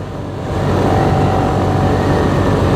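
Kawasaki Z 250 SL motorcycle accelerating hard into a corner, a loud, close, steady engine drone that builds slightly and holds, with no speech.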